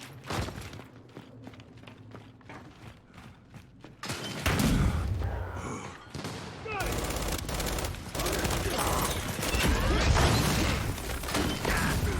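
Sustained blind-fire gunfire in the Gears 5 game, quieter bursts giving way to loud, dense rapid shooting with crashing impacts, continuing steadily for several seconds.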